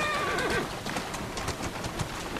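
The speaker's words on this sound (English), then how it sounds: "Who's a good horse?" A horse whinnies in the Assassin's Creed Syndicate video game, a high, wavering neigh in the first half second followed by hoof clip-clops and busy street bustle.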